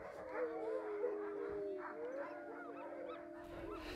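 Several Greenlandic sled dogs bark and howl together outdoors, wavering howls rising and falling over steady yelping, continuous and fairly loud for the full stretch.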